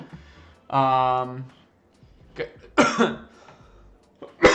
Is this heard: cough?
yes